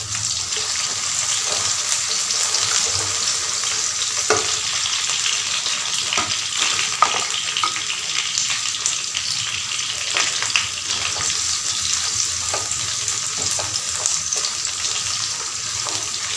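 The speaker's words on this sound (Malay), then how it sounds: "Lepas tu goreng irisan bawang merah besar ya. Put in the slices of red onions." Sliced red onions sizzle and crackle steadily in hot oil, a continuous hissing fry with occasional soft pops and stirring close up.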